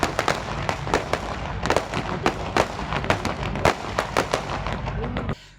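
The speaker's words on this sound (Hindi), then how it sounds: "आतिशबाजी का भी मुजाहरा किया गया और पटाखे फट रहे थे, आवाज़ें आ रही थी" Fireworks and firecrackers go off at an outdoor flower show in Korangi Town, Karachi, in rapid, irregular cracks and pops that keep up steadily before stopping abruptly, with crowd noise underneath.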